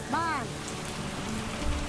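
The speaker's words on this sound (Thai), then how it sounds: "It's pouring rain." Heavy pouring rain patters steadily on surfaces, a dense continuous wash of drops throughout, with a brief voice heard near the start.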